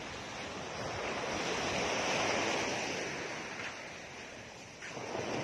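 Sea waves wash onto the shore at Paraiso, Oriental Mindoro, swelling and receding in a broad rushing roar with a little wind, and no voices.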